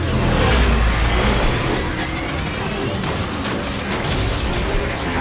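Taxi car driving in the video game Mass Effect 2, a steady loud engine and road roar with brief whooshes and thuds of passing traffic, running continuously without talk.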